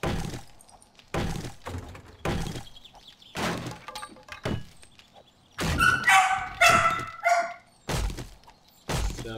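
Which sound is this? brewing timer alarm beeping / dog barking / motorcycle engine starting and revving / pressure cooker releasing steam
dog barking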